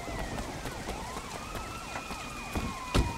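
A police cruiser's siren in the video game Sleeping Dogs wails and yelps in a continuous rising and falling tone, with clicks and a couple of sharp knocks near the end, and no talking.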